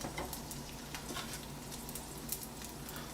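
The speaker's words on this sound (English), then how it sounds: "I can hear it starting to sizzle" Steady, fine sizzling hiss of dumplings frying in a pan over medium heat, continuous and close, with faint crackles scattered throughout.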